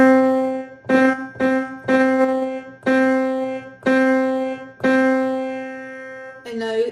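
A beginner piano song from the Piano Adventures Primer Level, played as a slow run of single notes struck one at a time with uneven spacing, clear and close with no voice over it.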